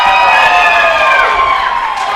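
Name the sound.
wrestling crowd cheering for Kevin Blue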